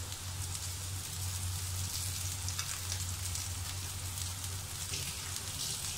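Onions frying in a pan for shrimp sambal give off a steady, close sizzle with crackling spatter that runs unbroken throughout.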